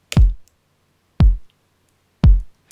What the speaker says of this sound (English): An electronic kick sounds like this.